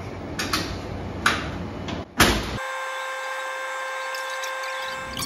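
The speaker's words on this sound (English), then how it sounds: "Now that we have the laser set up, we are going to engrave our hammer handle blank." A door-like thud, then a laser cutter engraving a wooden hammer handle blank gives a steady mechanical whir with high tonal hum, running evenly for several seconds at a constant pace.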